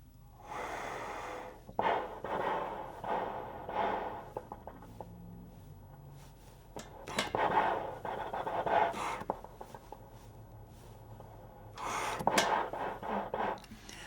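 Breathy, unpitched rushes of air blown through a trombone without buzzing, in bursts separated by short pauses, like steady blowing with no tone, close and moderately loud.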